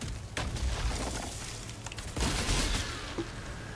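A rapid burst of freezing gunfire in Outriders, repeated sharp shots over a noisy backdrop, loud and close, with a fresh volley partway through.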